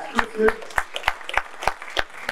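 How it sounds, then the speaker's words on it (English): An audience at an Onyx Men of Honor 2024 event breaks into a short burst of rhythmic clapping, fairly close, with talk over the applause. "Let's give her a round of applause."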